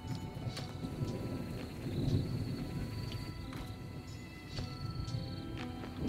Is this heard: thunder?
yes